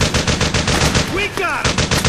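Rapid automatic gunfire in the video game Metal Gear Solid 4, loud and continuous bursts with shouted voices layered over the shooting.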